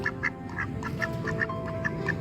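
Ducks quack repeatedly in short, regular bursts, fairly close, over a steady background hum of other birds and ambient noise at a park bird cage.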